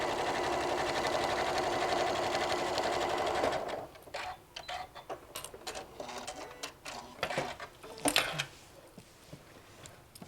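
A sewing machine stitches a walker bag in a fast, dense, continuous run for several seconds, then stops, leaving scattered handling clicks and small knocks.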